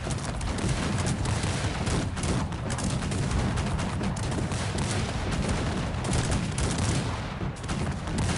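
Musket gunfire crackles in the video game Cossacks 3 as a dense, continuous battle din of overlapping shots under steady loud noise.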